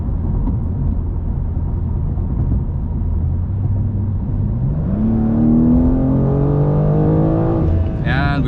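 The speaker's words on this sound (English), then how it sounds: "I can really gun it and have you guys hear it." A 2025 BMW M2 with its twin-turbo engine and M Steptronic automatic accelerating hard from about 60 to 90 mph, a deep cabin rumble rising into a climbing engine note with a quick upshift near the end, a voice talking faintly beneath.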